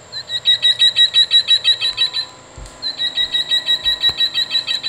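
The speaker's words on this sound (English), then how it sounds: "European green woodpecker." European green woodpecker call from a Wild Republic Audubon plush toy: two bursts of rapid, evenly pulsed high chirping notes, close and clear, with a short gap between them.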